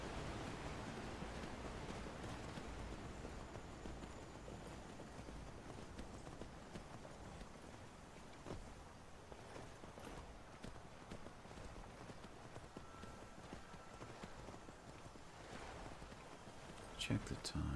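Hooves of a horse in the Skyrim video game clop steadily over a soft, constant wind-like hiss, faint and even in rhythm, with someone speaking over it.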